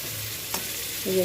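Food frying in mustard oil in a pan while cooking paneer dalna, a steady soft sizzle and stirring throughout with a brief scrape midway and a louder burst of sizzling near the end; no talking.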